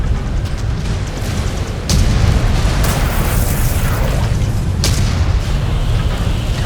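A mech blows apart as it is destroyed in the MechWarrior 5 game, with loud booming blasts landing on top of a dense, continuous roar of battle.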